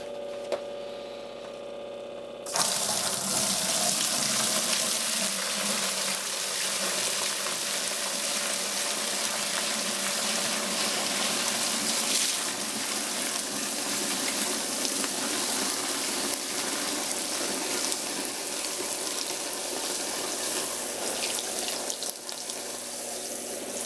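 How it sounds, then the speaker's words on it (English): Beer wort for a maple brown ale poured from high into a fermenter, a loud continuous splashing gush that starts abruptly and runs steadily for about twenty seconds. "Gonna dump it like I usually do from up high, splash it around, and get a little bit of aeration going on."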